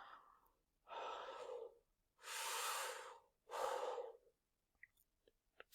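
Three slow, deep breaths taken in conscious breathing during meditation, each a long, airy whoosh separated by brief pauses, close and clear in a quiet room.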